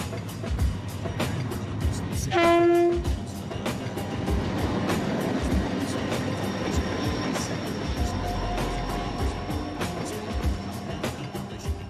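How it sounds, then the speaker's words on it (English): Rumbling passenger train on the Trans-Iranian Railway heading north from Khorramshahr, wheels clattering rhythmically on rails with a brief tonal whistle and squeals, steady and close throughout. "Our train leaves Khorramshahr and heads north."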